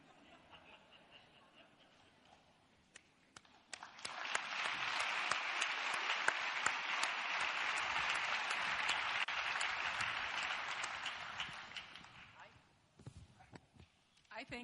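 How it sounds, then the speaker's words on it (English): A lecture audience applauds the Archbishop, a quiet room breaking into sustained, dense clapping that holds for several seconds and then tapers off into scattered claps. "would give a grateful applause to the Archbishop for the thoughts that you just gave us"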